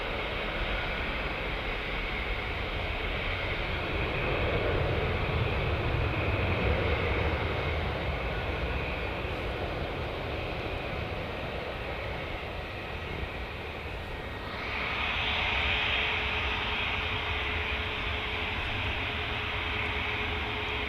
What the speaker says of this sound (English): First Ryanair, 737-800 MAX, off to Gran Canaria